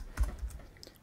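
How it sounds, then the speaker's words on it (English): Quick, light keystrokes on a computer keyboard while entering code, a short burst of clicks heard close and quietly with no talk. "So just type what I'm typing"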